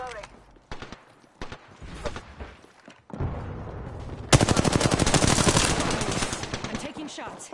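Gunfire in Apex Legends: scattered single shots and short bursts early on, then a dense, loud rapid-fire volley of automatic weapon fire dominating the latter half, with brief talk mixed in.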